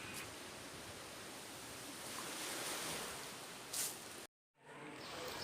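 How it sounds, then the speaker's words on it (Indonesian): Ocean waves surge and wash in a steady, loud broadband roar, with one brief swell of louder surf before a sudden short break, then the surf continues. "Bunyi ombak"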